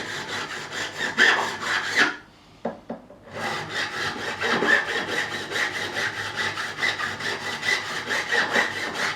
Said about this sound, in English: this is just basically just to start get a nice crown on these frets